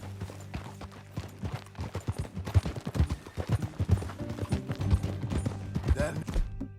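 Horse hooves clip-clop at a steady riding gait in Red Dead Redemption 2, the rhythmic footfalls sitting close and prominent over low game ambience, with a faint voice briefly present.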